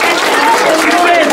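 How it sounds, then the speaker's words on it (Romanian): Audience applause at a book launch in Slobozia, a dense, continuous wash of clapping filling the whole moment at close range, loud and steady with crowd noise mixed in. "să aplaudăm băieții!"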